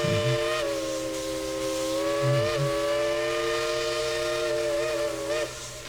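A steam train whistle at Dollywood blows steadily for several seconds, loud and close, its layered tones holding a single sustained chord before fading at the end.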